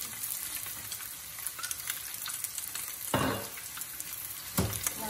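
Egg bhuna fries in a pan of oil with a steady sizzle, broken by two sharp louder bursts of spattering as more oil goes in.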